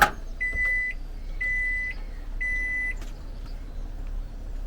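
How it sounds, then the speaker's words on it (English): A microwave oven hums steadily and gives three evenly spaced electronic beeps, each about half a second long. No one speaks. "Might just put them straight in the microwave."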